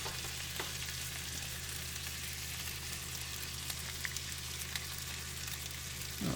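An egg fries inside an egg ring on a pan with the lid closed, giving a soft, muffled, continuous sizzle with occasional faint pops, quiet and with no talking.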